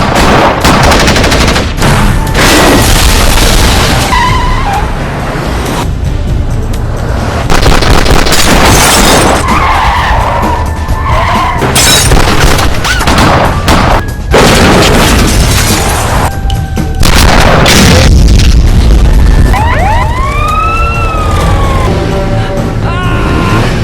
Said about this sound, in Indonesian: satu batalion dari kepolisian mendatangi tempat tersebut hingga akhirnya baku tembak pun tak terhindarkan